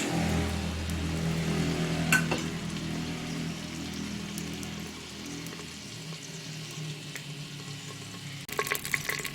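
Whole spices such as black cardamom, cinnamon, black pepper, bay leaves and nutmeg sizzle and fry in hot oil in a clay pot for chicken korma, a steady crackling hiss that is strong at first, then quieter, with a sharper burst near the end.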